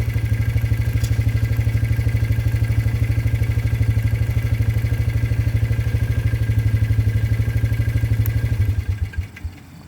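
A four-wheeler engine idles loudly and steadily up close with a rapid rhythmic putter, then cuts off and sputters to a stop near the end.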